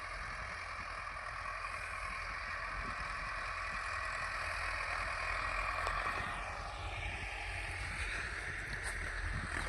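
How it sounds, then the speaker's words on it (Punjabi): A tractor drawing a deep-digging plough across a field of buried rice straw, being prepared for potatoes, drones as a steady engine hum at moderate distance, with no talk. "ਇਹ ਇਧਰ ਆਪਣਾ ਚੱਲ ਰਿਹਾ ਟਰੈਕਟਰ ਇੱਕ ਹਾਲ ਤੇ"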